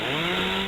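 An Alaskan chainsaw mill cutting through a wood log, a loud, steady, high-revving chainsaw drone held at close range for a brief moment, with no voices.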